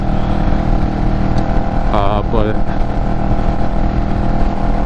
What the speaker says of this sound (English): Granted, I have a Delkevic, you know, aftermarket exhaust on it, so it sounds a lot better than it does the stock.